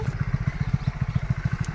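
A motorcycle's engine putters in a quick, even beat of low pulses as it shifts gear and pulls away past potholes, heard close and moderately loud over a short stretch.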